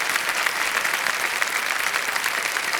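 A studio audience at the Kaun Banega Crorepati quiz show claps steadily for a contestant, a full, even wash of many hands applauding with no talk over it.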